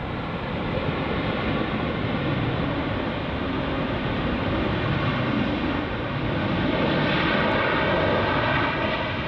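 Airliner on approach to Heathrow Airport, a steady broadband jet roar that holds loud and even throughout, swelling slightly toward the end, with no voices.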